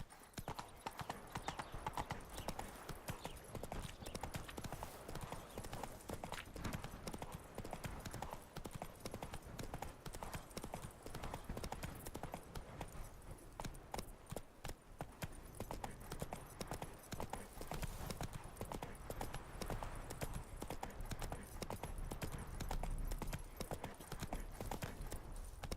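Horse hooves clip-clopping in The Witcher 3 video game, a quick, steady run of hoofbeats that goes on without a pause, faint and even in level, with no voices.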